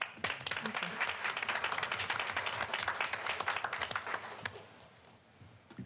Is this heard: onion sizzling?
no